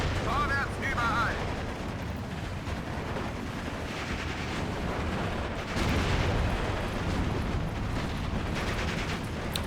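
81mm mortar fire in the video game Steel Division 2, a series of dull thumps and distant booms amid rumbling battlefield noise, with a few sharper impacts standing out in the mix.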